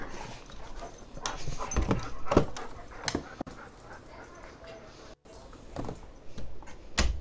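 A dog pants and whimpers indoors on a hot day while being held, with breathy bursts and a few sharper yelps at close range; someone speaks around it.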